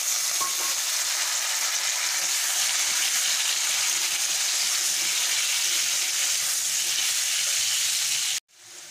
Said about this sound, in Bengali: এই কুমড়োটাকেও এর সঙ্গে ভেজে নেব